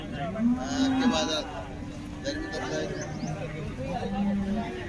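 HF cows mooing in low, drawn-out calls amid a noisy background of people talking and chatter at a busy cattle market in Baramati.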